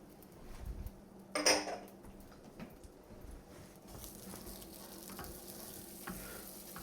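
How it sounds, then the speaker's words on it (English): Butter and brown sugar melting over medium heat in a pan for bananas Foster, a quiet steady sizzle with occasional clinks of a utensil against the pan. "Going to melt the butter. Going to add the brown sugar."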